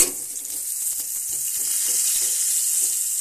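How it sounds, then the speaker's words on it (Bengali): Eggplant slices sizzle in hot oil in a pan, a steady, close crackling fry with small pops throughout. "বেগুন ভাজাগুলো আমি এ পাশটা উল্টে দিয়েছি"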